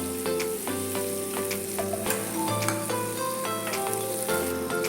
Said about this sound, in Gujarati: આવી રીતના હલાવતા રહેવાથી ટામેટા સરસ આપણા શેકાઈ જશે